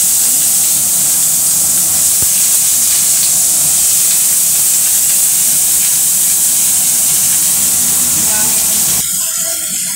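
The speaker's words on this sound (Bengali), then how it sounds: "এবার আমি তেলের মধ্যে আলু পেঁয়াজ" Potatoes and onions frying in hot oil while fish oil is being cooked, a loud, steady, continuous sizzle and hiss throughout, with a brief drop in the sound near the end.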